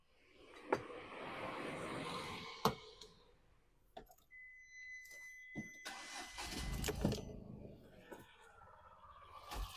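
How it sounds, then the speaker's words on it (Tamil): A Tata Nano automatic's small engine cranks and catches amid clicks and clunks, then settles into a low idle, with a few sharp knocks and a brief tone. "வண்டியோட இன்ஜின் பாருங்கள். இப்போ நான் ஸ்டார்ட் பண்ணிட்டேன்."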